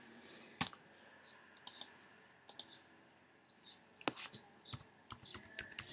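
A mouse clicks sharply in Excel on a Mac, with a few isolated clicks and then a quicker cluster toward the end, all faint and close with no talk.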